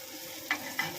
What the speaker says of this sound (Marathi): आपली मस्त व्यवस्थित मच्छी भाजून झालेली आहे।